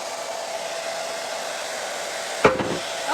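Hair dryer blowing steadily on fresh paint on a wooden board for a craft sign, a constant airy whir that ends in a short clunk and rattle as it is switched off or set down.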